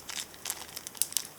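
A small plastic bag crinkles and rustles in quick, light handling as spare grommets for a drone are dropped inside, close and fairly quiet with no speech.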